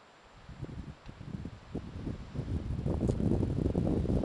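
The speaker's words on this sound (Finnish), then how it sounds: "Tuo tuulenviima on niin saatananmoinen" Wind buffets the microphone in rough, swelling gusts that grow stronger toward the end, with rustling noise throughout and no talking.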